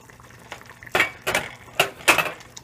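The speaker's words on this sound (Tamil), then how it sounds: "நல்லா கொதிச்சிருச்சு. தலதலன்னு கொதிக்குது." Thick curry bubbles and pops in a pot, several sharp bursts at uneven intervals over a quiet background.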